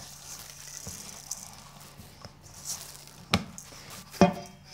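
By hand, salt gets folded into whole wheat sourdough dough. Soft, sticky squishes and quiet slaps sound up close, with two sharper knocks near the end over a faint steady hum.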